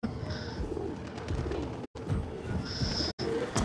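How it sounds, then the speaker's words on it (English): Pigeons coo in the video game Mirror's Edge Catalyst, soft repeated calls over a steady ambient bed of game background noise, with two brief dropouts to silence. "Oh, pigeons!"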